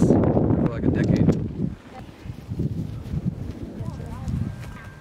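A horse's hooves clop close by in uneven steps, mixed with gusty wind noise and some faint voices in the background.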